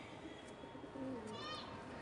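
A Lal Sindi pigeon coos softly against a busy, noisy background, with a brief low cooing phrase in the middle and faint chirps above.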